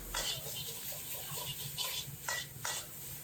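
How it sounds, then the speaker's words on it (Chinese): Pork kidney tossed over high heat with garlic, ginger and pickled chilies in a wok, a quiet steady sizzle with several brief bursts of scraping and stirring, faint and close, without talking. "放入滑好油的腰子配料，开大火简单翻炒扒拉1-2下"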